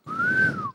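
A person whistles in imitation of a night watchman's whistle: one clear, sustained tone that rises slightly and falls, lasting under a second.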